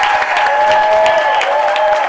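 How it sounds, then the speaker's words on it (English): A school crowd applauds at a fall sports awards night, dense, loud, sustained applause with a faint tone ringing underneath. "let's give them a round of applause"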